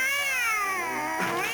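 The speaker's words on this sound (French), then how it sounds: "Oh, un chat noir." A cartoon black cat gives a long, wavering meow, loud and close, with a rising yowl near the end and no talking over it.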